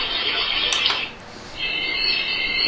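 The first alarm ringtone of a Big-G smart light sound machine (BT-340 speaker) plays as a soft, sustained electronic tone that rises out of hissy background noise partway through.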